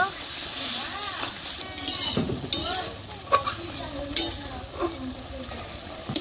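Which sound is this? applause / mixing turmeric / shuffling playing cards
mixing turmeric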